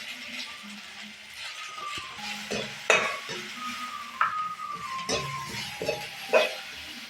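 Crushed garlic and ginger sautéing in a pan with a soft, low sizzle, broken by occasional clinks and scrapes of a spoon stirring against the metal.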